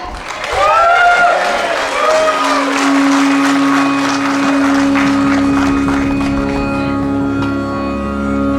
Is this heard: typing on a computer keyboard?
no